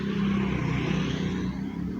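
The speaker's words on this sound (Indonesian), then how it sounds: "Apakah truk? Bus, masih bus Keramat Jati teman-teman." A Kramat Djati bus passing on a road at the Cidolog bend, heard as a loud, steady low engine rumble with road roar throughout, with no voices.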